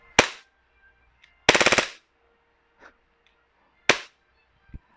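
A WE Glock 18 airsoft pistol fires in burst mode: a sharp single shot, a rapid rattling burst of several shots, then more isolated snaps with quiet gaps between them. The shots are close and loud, with no talk.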